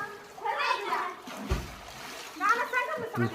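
Someone jumps into water for a swim, making one heavy splash in the middle, surrounded by excited children's and adults' voices before and after.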